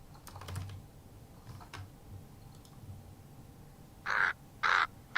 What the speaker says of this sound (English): indoor crow cawing. So let's grab that too.